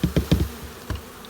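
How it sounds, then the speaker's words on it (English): Honeybees scooped into a half-cup measure for a varroa mite sample give a close, loud pulsing buzz in several quick bursts, then a softer drone. "Half cup measure, half a cup of bees going in there"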